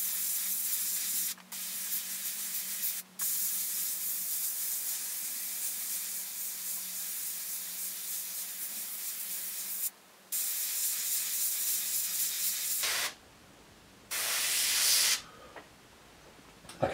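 Steady airbrush hiss spraying orange paint on a miniature in long continuous bursts, cutting off briefly between passes, close and fairly loud.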